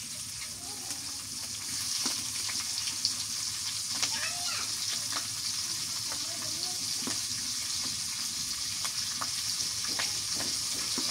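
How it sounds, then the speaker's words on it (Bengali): Green chilies frying in hot oil while pangas fish is being cooked, giving a steady, close sizzle with occasional stirring clicks throughout. "এই তেলের মধ্যে কাঁচা মরিচ দিয়ে দিন।"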